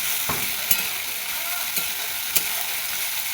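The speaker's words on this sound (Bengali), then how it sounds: "আদা লঙ্কা জিরে আর রসুন বাটা দিয়ে দিলাম, একটু নাড়াচাড়া করে নেব।" Ginger, chili, cumin and garlic paste fries in a pan with a loud, steady hiss, broken by three short scrapes of a spoon stirring it.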